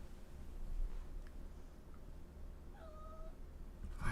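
A cat gives a short meow, faint and a little distant, over quiet room ambience with a soft click or two.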